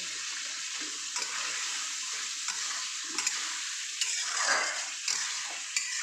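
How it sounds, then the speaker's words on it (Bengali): Water goes into a pan of spicy mini fish curry, making a continuous loud hiss and bubbling sizzle that swells briefly near the end, with a few light clinks and no speech. "ভালো জল দিয়ে দিলাম"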